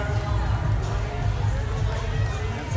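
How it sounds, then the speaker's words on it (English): Crowd at a Fittest of the Coast fitness competition cheering on a female pro athlete, a steady dense roar of shouts and chatter with rhythmic thumps underneath, continuous and loud throughout. "Misfit crew cheering her on."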